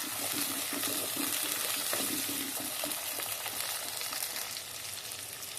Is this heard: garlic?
yes